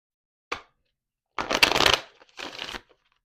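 Oracle cards being shuffled in several quick riffling bursts, a short flick followed by two longer crisp shuffles with brief pauses between, close and fairly loud.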